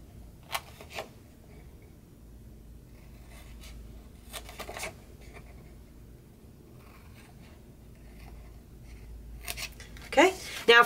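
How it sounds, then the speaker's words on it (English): Scissors snip through paper along score lines, a few short crisp cutting bursts spaced apart over a quiet background, ending with a louder rustle of handled paper. "for the other remaining score lines, you just want to cut up to the next score line"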